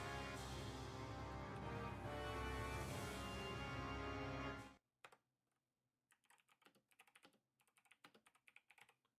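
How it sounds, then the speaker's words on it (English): Computer keyboard typing on its own after a loud burst of other sound cuts off, with quick irregular clusters of key clicks that come close and clear. "I'm typing while this is going on."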